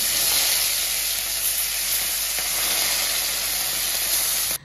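Bata fish cooking in a pan, giving a steady, close hiss of frying that holds level throughout and cuts off abruptly at the end, with no voices.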